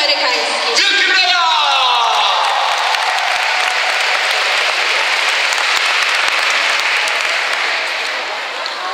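A crowd claps loudly after a children's group performs an American dance at a school show, with a few whoops and shouts at the start. The applause stays dense and even for the whole stretch, then eases slightly near the end.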